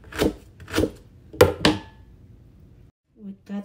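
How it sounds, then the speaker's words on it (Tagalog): A knife cuts a small chunk of ginger on a board in a home kitchen, with four crisp chops close up, then a pause and two softer taps. "We cut very small chunk of this ginger"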